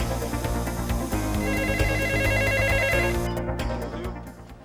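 A telephone rings loudly and continuously, its bright bell-like tone sustained over a dense, full background before fading toward the end.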